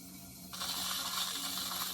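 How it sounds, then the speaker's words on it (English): A potter's rib drags water off a clay pot on a spinning wheel, starting suddenly as a steady close whirring rasp over the wheel's low mechanical hum. "I'm using the rib to drag the water off and shape it"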